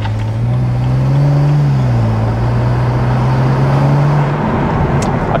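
A BMW E92 335i with a swapped N54 turbo engine accelerates under boost, giving a loud, steady engine drone heard from inside the car that rises slightly in pitch, dips, then holds.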